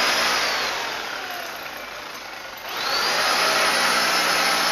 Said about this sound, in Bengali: আমাদের ছেনি ছোট হয়ে গেছে, ওই জন্য আমার ড্রিল মেশিন দিয়ে ভেতর দিকটা একটু মেনে নিতে হচ্ছে।